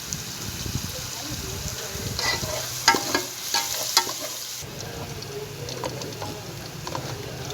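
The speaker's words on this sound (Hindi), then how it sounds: "प्याज और लहसुन हमारा अच्छी तरह ब्राउन हो गया है।" Onion and garlic browning in oil in a pan for a desi aloo kofta shorba, giving a steady close sizzle with scraping stirs that grow busier midway.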